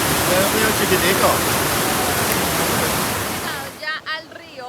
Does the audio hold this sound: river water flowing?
yes